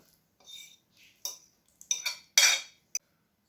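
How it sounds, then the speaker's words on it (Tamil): Fried onion and chilli are added to eggs in a bowl, with short spoon scrapes and clinks against the bowl, an irregular scatter of close, light knocks with silence between them. "இப்போ நாங்கள் வந்து இந்த முட்டையில் இந்த வெங்காய மிளகாயும் சேர்த்துக்கொள்வோம்"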